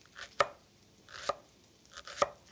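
Three crisp knife strokes chopping jalapeño on a cutting board, evenly spaced and close up, with no voices.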